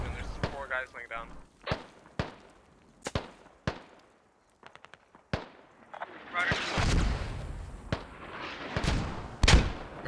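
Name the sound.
mortar fire in a video game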